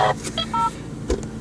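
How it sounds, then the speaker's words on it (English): A phone gives off a few short electronic beeps and tones, fairly clear over a quiet background hum, with a brief thump near the end. "Yes, that was my phone again."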